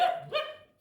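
A dog gives a single short bark followed by a second yelping bark, close and clear, tailing off quickly into quiet.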